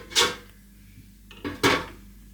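An air fryer basket being pulled open, two distinct hard plastic clunks with a brief sliding scrape between them, close and clear against a quiet kitchen.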